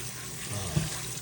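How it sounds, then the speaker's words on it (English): Soaked smoothie ingredient rinsed under a running tap at a kitchen sink, a steady close hiss of flowing water with a brief louder splash partway through. "Rinse it off one more time, and that should be the last of it."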